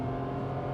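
A 2023 Nissan Magnite AMT engine revs steadily near 3000–3500 RPM, a loud, constant droning hum with strong low harmonics and no talk over it.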